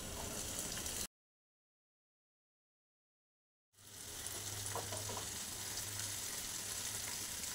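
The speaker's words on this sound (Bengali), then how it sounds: "পেঁয়াজ কুচিটাকে অ্যাড করে এখানে আদা রসুনের সাথে আরেকবার ভালো করে ভেজে নিতে হবে।" Chopped onion frying with ginger and garlic in a pan for palak paneer, a close steady sizzle that cuts to silence for a few seconds, then resumes with faint stirring scrapes.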